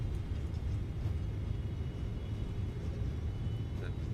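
A Boeing 777 rolls out after landing in a flight simulator game with the thrust reversers deployed, giving a steady low rumble and whoosh of engine and runway noise that holds level throughout, with no talk over it.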